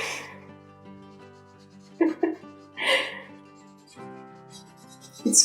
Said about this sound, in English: I hope you don't mind the marker sound, because I know people that don't like it at all